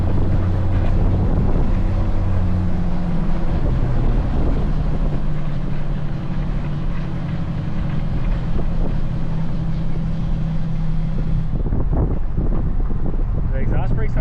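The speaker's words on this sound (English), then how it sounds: "give y'all some exhaust brake noise" A Chevrolet C10 truck that has had weight reduction work holds its exhaust brake in a loud, steady low drone mixed with wind rush, then drops off near the end into quieter rumbling.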